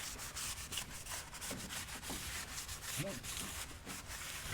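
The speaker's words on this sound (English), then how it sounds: "we need to clean the shipping protectant off the discs" Blue paper roll soaked in brake cleaner rubbed over new car brake discs to strip shipping protectant, a steady, close, fairly quiet scrubbing and wiping that runs throughout with no speech.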